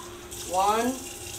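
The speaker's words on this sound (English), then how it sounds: "I'm going to add some water to that." Water is poured into a pot holding beans and tomato sauce, a brief splashing gush that swells and fades within about half a second against a low steady background hum.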